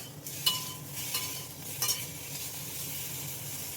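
Pieces of ivy gourd frying in a pan give a steady sizzle, broken by a few scraping stirs near the start, with no voices.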